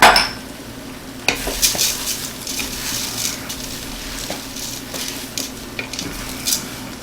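Split peas and dried thyme are stirred in a pot with a soft sizzle underneath, marked by scattered clinks and scrapes of a utensil against the metal; no speech.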